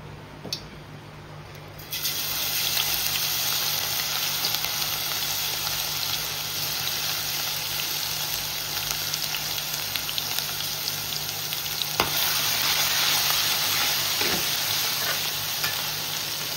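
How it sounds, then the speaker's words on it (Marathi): Ginger, garlic and green chili frying in hot oil, a loud, dense, continuous sizzle that surges after the first two seconds and stays steady, close up with a few faint stirring knocks. "तेल तापून देऊ व्यवस्थित. आता याच्यामध्ये आपण अद्रक, लसूण आणि मिरची टाकूया."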